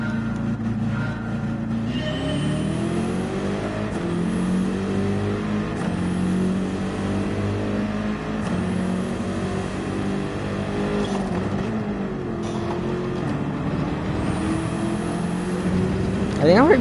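A race car's engine in Gran Turismo 7 revs steadily and loudly, climbing in pitch again and again as it shifts up through the gears, with a brief lull near the middle.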